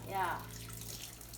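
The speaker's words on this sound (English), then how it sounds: "So you're gonna dump the water." Water poured and dumped out of a container while making injera, a brief splashing gush at the start that fades into a low running-water hiss in a kitchen.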